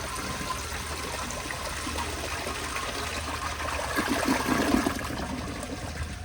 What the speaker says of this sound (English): here's one last flush